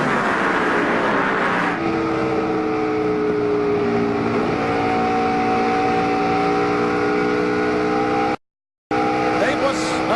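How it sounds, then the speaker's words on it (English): NASCAR Busch Series race cars lapping Charlotte during the 2002 Little Trees 300, engines holding a loud, continuous, close drone with slowly rising pitch as they accelerate, interrupted by a brief dropout near the end. "Here's Scott Riggs just behind Wally in the yellow 10"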